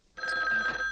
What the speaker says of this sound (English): The havoc usually interrupted by a ringing phone.